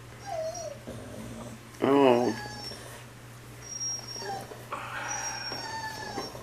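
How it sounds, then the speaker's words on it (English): Newborn tuxedo puppies whimpering and squeaking nearby in short, high, wavering cries, one louder yelp-like whine standing out midway, over a steady low hum, with a person briefly speaking. "these are definitely tuxedo puppies"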